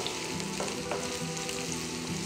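Thinly sliced onions fry in ghee while being stirred, a dense, continuous close-up sizzle with soft scraping, and no voices.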